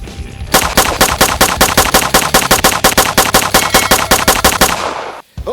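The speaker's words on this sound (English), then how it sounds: "AK-47 submachine gun" A toy AK-47 submachine gun fires a rapid, loud burst of evenly spaced clacking shots that runs for about four and a half seconds and then cuts off abruptly.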